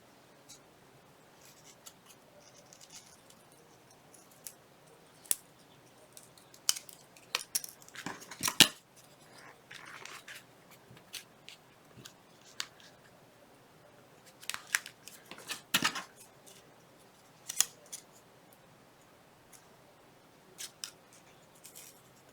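Scissors trimming paper ephemera for a Halloween mini folder, with quiet, close snips and crisp cuts coming irregularly, some in quick runs of several, over a faint hushed background.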